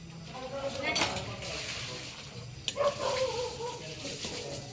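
Food gets stirred in a cooking pot, with a spoon clinking and scraping against the pot in two bursts amid quiet household background.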